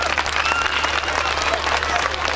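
An audience at a village event gives a burst of loud, steady applause, many hands clapping together with crowd noise mixed in.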